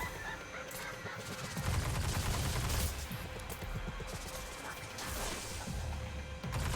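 Fusion rifle fire in Destiny 2 inside the Shattered Realm Forest of Echoes: two harsh, crackling blasts arrive a few seconds apart over a busy, noisy game backdrop.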